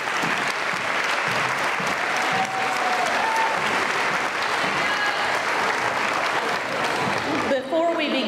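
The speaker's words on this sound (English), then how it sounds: "if we'll give last year's fourth graders another round of applause" A school auditorium audience at an elementary awards ceremony applauds fourth graders with steady, dense clapping that fills the whole stretch, with a few faint voices and whistle-like tones mixed in.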